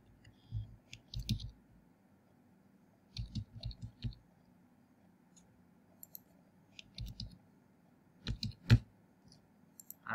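Keys tapped on a computer keyboard while entering text into a web form, heard as short separate bursts of clicking with quiet pauses between them, fairly faint and close.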